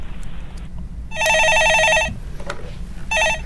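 A telephone rings for an incoming caller on a Korean stock-market call-in radio show, two bursts of electronic trilling, the first longer, close and clear over faint background hiss.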